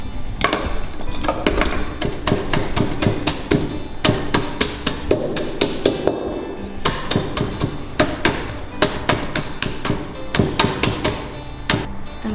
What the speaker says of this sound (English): More hammering.